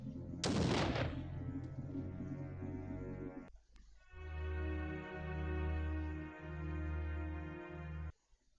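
Enemy gunfire in the video game Blood Omen: Legacy of Kain: a loud sudden blast followed by a sustained rumbling burst, a brief gap, then a long droning, repeating artillery-like roar that cuts off sharply, with no talking.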